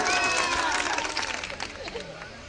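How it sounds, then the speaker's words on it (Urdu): Applause and cheering from the audience at a mushaira poetry recital at a girls' college, a dense burst of clapping that gradually thins and fades over a few seconds, with some voices mixed in. "اگر تازہ تو زوردار ایک بار تالی بجائیں"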